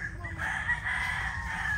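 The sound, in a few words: chicken rooster crowing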